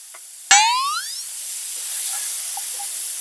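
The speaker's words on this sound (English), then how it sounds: "we're just going to put some burgers down on the griddle" Burgers hit a hot Blackstone griddle with a sudden loud hiss that settles into a steady, close sizzle with faint pops.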